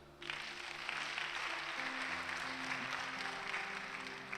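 A church congregation claps steadily and warmly for several seconds, a sustained wash of applause with a held musical tone underneath, fairly distant and even.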